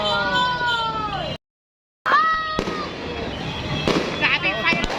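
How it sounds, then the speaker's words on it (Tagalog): New Year fireworks burst and crackle continuously with loud, close bangs, while whistling rockets and excited voices ring out over them; the sound drops out briefly for a moment. "Grabe fireworks."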